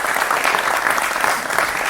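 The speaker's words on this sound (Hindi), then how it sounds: "जोरदार तालियों के साथ हमारे खास मेहमानों का आप" Loud, dense applause from a television studio audience welcoming guests to a Hindi-language political debate show, a continuous close clapping wash with no talk over it.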